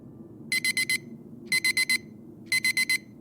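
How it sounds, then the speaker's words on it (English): A digital alarm clock blares in three bursts of four rapid, shrill beeps, each burst about a second apart, loud and alone over a low background hum. "I woke to the sound of my alarm blaring"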